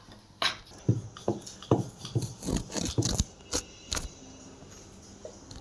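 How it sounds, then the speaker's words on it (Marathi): A utensil stirs Maggi noodles in a hot pan, scraping and rubbing against the metal in a series of short, irregular strokes. The strokes are close and distinct, with gaps between them. "आता मी हे तुम्हाला हलवून भेटते"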